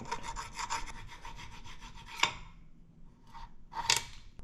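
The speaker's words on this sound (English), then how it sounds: "we're going to have to file it a little bit just as we turn it" Metal file rasping across the mushroomed end of a transmission bolt during a 4L65E teardown, a steady run of quick scraping strokes for about two seconds, then a sharp clank and a few separate scrapes, close and moderately loud.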